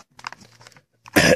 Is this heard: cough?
yes